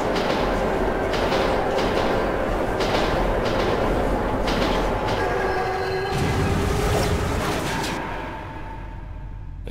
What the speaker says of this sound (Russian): Призрачный поезд.